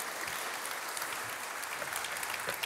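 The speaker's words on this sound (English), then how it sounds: "This is your applause" Dense, sustained audience applause for start-up pitch presenters at an Africa-focused start-up night event, a continuous even roar of many hands clapping with no break.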